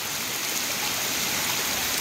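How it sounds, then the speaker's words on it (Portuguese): Steady, heavy rain hisses across the whole two seconds, a dense broadband wash with gusty swells suggesting wind, loud and close with no voices. "Muita chuva com vento por aqui."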